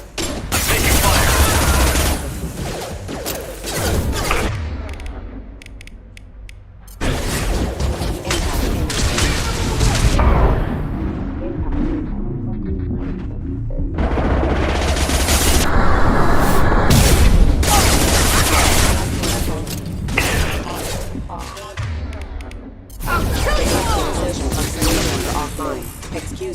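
Rapid gunfire and booming explosions fill a Mass Effect 2 Legendary Edition firefight, loud dense bursts with short lulls between, while voices call out over the combat.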